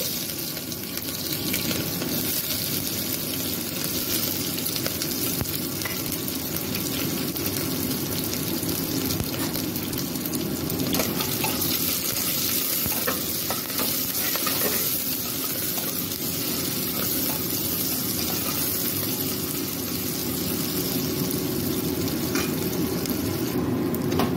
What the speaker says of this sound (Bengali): তেলটা গরম হয়ে গেছে, এখন আমি পেঁয়াজগুলো ছেড়ে দেব।